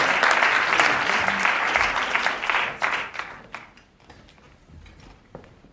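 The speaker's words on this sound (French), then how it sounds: "Et je vous demande d'applaudir parce qu'il faut les encourager un petit peu." Encouraging applause from an audience at a beach event, dense clapping that tapers off into a few scattered claps and a murmur.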